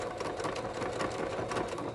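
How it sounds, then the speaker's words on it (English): A domestic sewing machine runs a zigzag stitch over a sweater romper placket, its rapid, even mechanical chatter loud and close, continuing without pause and without talk. "I just do a sewing machine and zigzag stitch over"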